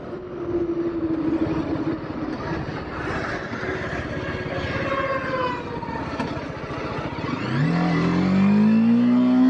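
A TVS Apache RTR 310 motorcycle pulls away in first gear, its engine note climbing steadily in pitch before a gear change and a louder, rising rev near the end, heard up close.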